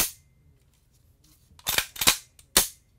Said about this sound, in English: Dry fire, watch out